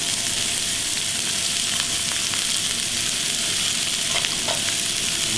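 Celery sizzling loudly in a hot pan for ossobuco, a continuous close hiss with faint scraping clicks of stirring scattered through it.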